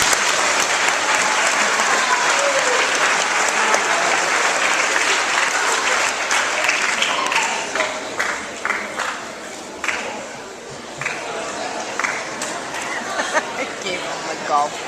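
An audience at a meeting breaks into applause, a dense burst of clapping that thins out after several seconds into scattered individual claps and murmured chatter.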